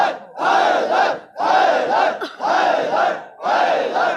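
Large religious gathering in Jacobabad, Sindh, reciting salawat in loud unison, four strong chanted bursts in a steady rhythm with brief gaps between them.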